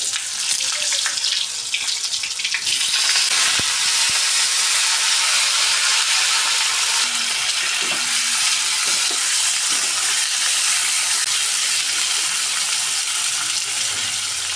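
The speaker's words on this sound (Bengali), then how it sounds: "তেল গরম হয়ে গেছে, এবার কলাগুলো দিয়ে দেব।" Green banana pieces frying in hot mustard oil with a bay leaf and five-spice seasoning, a steady loud broadband sizzle running the whole time, with faint utensil clinks underneath.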